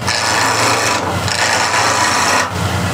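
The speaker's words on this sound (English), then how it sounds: "use this SKEW gouge to round this over" A skew gouge rounds over a wood blank spinning on a lathe, a loud continuous rasping scrape with two brief breaks where the tool lifts off.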